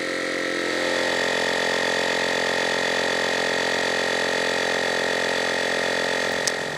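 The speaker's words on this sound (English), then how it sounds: "All four tyres now inflated to around 38 psi." A portable air pump inflating a BMW 7 Series car tyre to about 38 psi, a steady loud motorised drone with a constant tonal whine running throughout, ending with a brief click.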